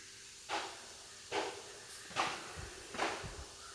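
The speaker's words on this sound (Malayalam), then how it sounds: "ചതച്ച് വെച്ച ഇഞ്ചി പച്ചമുളക് വെളുത്തുള്ളി ആഡ് ചെയ്ത് കൊടുത്തു അതിൻ്റെ പച്ചമണം പോകുന്ന വരെ ഒന്ന് വഴറ്റിയെടുക്കുകയാണ്" Crushed ginger, green chili and garlic sauté in a hot pan with a quiet, steady sizzle, marked by four soft bursts of hissing as the spices are stirred.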